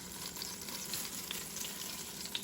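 Flour-dredged short ribs sear in a pan, a steady close sizzle with scattered light pops and crackles, moderately quiet with no speech.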